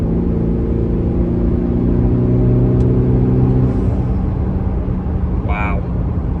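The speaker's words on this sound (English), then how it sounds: "the engine sounds so much more throaty too" A car engine with a throaty note revs and holds a loud, steady rumble close by, then eases off toward the end while a person talks over it.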